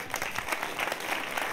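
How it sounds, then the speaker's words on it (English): An audience at a live show claps together in a short burst of steady, close applause with no talking. "Give a big round of applause."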